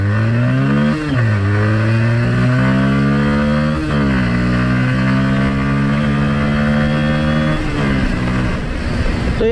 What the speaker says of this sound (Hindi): अब मैं आपको एक और बार इसका एग्जॉस्ट नोट बता देता हूँ।